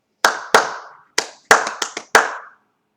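Hands clap a short rhythm pattern in a music lesson, seven crisp claps spaced unevenly, loud and close with brief room echo and no talking.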